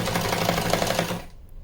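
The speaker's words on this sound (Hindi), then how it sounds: "अब देखिए सिलाई के ऊपर सिलाई ले आएंगे" A sewing machine runs a quick burst of rapid, rhythmic stitching over fabric while making a small designer dress, then stops abruptly and leaves near silence.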